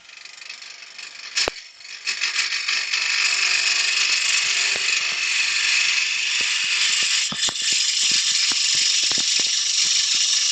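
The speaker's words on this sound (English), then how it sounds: "So now I can speed my lathe up a little bit because it's a little bit better balanced." A wood lathe spins a coin bowl blank at higher speed, giving a steady, loud whirring hiss with scattered clicks and light rattles throughout.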